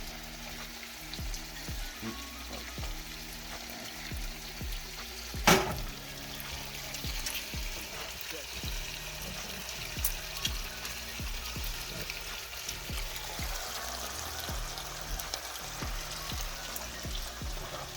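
Eggs cooking in a hot pan, a steady soft sizzle and crackle close by with one sharp clack, no talking.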